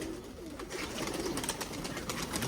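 A pigeon coos softly and nearby, low throaty murmurs repeating over about two seconds against faint background noise.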